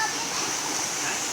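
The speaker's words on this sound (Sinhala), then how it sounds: "එතන වතුර පාර හරි සැරයි" A strong stream at Deraniyagala pours over rocks, a steady broadband rush of fast-flowing water that holds constant and fills the whole short moment without a break.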